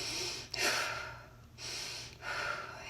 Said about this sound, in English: that's actually just chest breathing